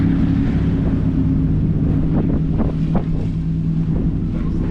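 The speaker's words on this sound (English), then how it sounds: "We've got a fast boat there, a smaller little boat following behind." Steady wind rush and lapping water with a low boat engine drone on the Trent Severn Waterway as a fast boat passes with a smaller one following, a continuous loud roar with a few faint knocks.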